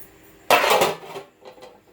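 A metal lid drops onto a pot of small fish curry with one sharp clanging clatter that rings briefly, followed by a couple of faint settling taps.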